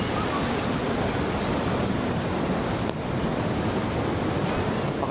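Sea waves wash in at night, a steady broad rushing roar close by with wind noise mixed in and no distinct breaks between swells.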